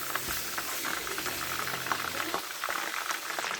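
Tomatoes sautéing in hot oil in a pan for mutton biryani, a steady close sizzle and bubbling crackle that continues throughout at moderate loudness.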